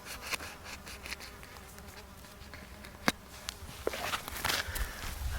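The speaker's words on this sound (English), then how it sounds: "I apologize for the bees flying around here." Bees buzzing close by in a noisy outdoor setting in Oregon, with scattered brief rustles and a couple of sharp thumps.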